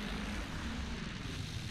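Enemy aircraft in the World War I shooter Battlefield 1 drone with a steady, low rumbling engine tone, continuous and fairly loud for the whole short stretch, with no voices over it.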